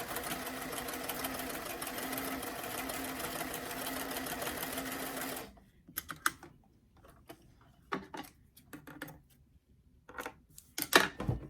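A sewing machine stitches the top edge of a doll dress sleeve, running steadily and loudly for about five seconds, then stopping; afterward come scattered soft clicks and handling noises of fabric and machine.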